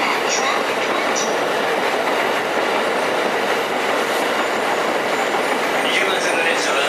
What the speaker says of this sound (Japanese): the Komachi 1-6-7 for Akita will soon arrive at track 20